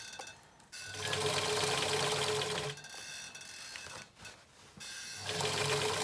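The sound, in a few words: sewing machine sewing a scrubs hat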